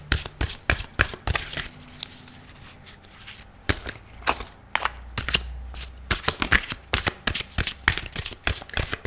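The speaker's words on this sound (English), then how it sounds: "if you don't like the shuffle," Rapid riffling and snapping of a tarot deck being shuffled, repeated in quick bursts with short pauses, close and fairly loud, no talking.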